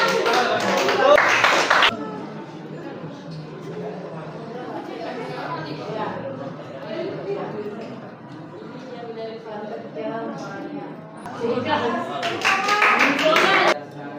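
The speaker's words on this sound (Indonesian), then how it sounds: "Oke, terima kasih, tepuk tangan" An audience claps in two loud bursts, one at the start and one near the end, with a classroom voice talking through the quieter middle.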